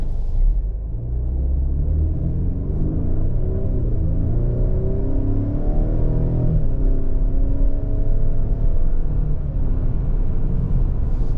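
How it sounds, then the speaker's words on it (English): Steady road noise from inside a 2023 Ford Explorer ST-Line cruising along, a continuous low rumble and tire hum with gentle engine drone rising and settling, no talking. "we're in this 2023 Explorer ST line. Zipping down the road here."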